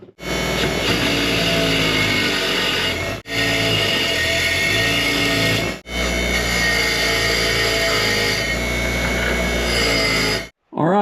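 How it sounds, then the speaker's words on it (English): A power grinder takes a sharp edge off an AR500 steel target plate, whining loud and steady at close range in three long passes with short breaks between them. "I'll go ahead and grind off that sharp edge right there"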